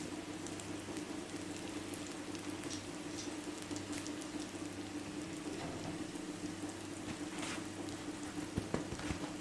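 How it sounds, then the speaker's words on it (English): Jamaican fried dumplings made with self-rising flour sizzle in hot oil, a steady dense crackle and hiss that stays even throughout, close and moderately quiet under a low background hum. "I'm going to allow these to fry now"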